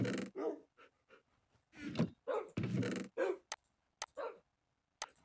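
Minecraft wolves (tamed dogs) being bred in a game, giving several short, sharp bark-like yelps in bursts, with soft thumps and clicks between them and no talk.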